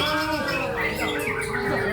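A white-rumped shama (murai batu) sings continuously out in the field, rising and falling whistles and sweeping phrases heard up close, with faint background noise underneath.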